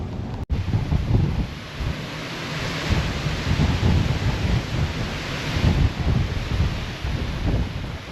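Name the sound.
strong wind blowing outdoors on a blustery day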